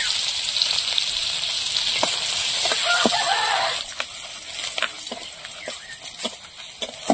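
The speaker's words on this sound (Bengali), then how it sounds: "পেঁয়াজটা ভাজা হয়ে গেছে" Chopped onions fry in oil in a home kitchen, a bright sizzle that is strong at first then thins out, broken by several sharp spatula clicks and scrapes against the pan.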